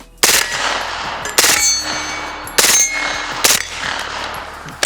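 An MP5 submachine gun fires, leaving four loud, sharp reports spaced about a second apart, each followed by a ringing metallic decay, close by and with no talking.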